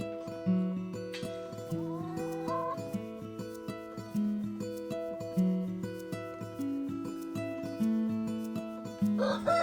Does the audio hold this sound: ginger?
no